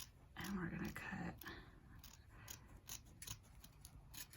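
Scissors snip yarn on a braided yarn coaster, quiet close-up cuts heard as a few soft clicks and scrapes. A voice talks faintly over them.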